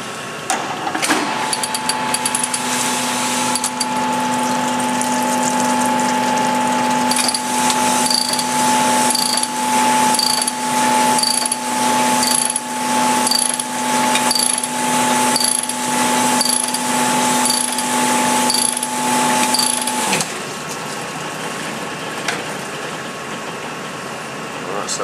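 An engine cylinder is honed with torque plates bolted on, a loud, close power-tool whine with a steady tone and rhythmic ratcheting pulses, running for about twenty seconds before winding down.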